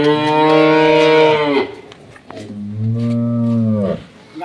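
A dairy cow gives two long, loud, close moos, the first higher and drawn out, the second deeper, separated by a short pause.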